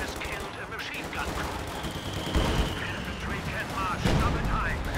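Machine gun fire from a Company of Heroes 2 battle, including an MG42 position, rattles in dense bursts mixed with other gunshots and booms, loud and continuous throughout, with a voice talking over it.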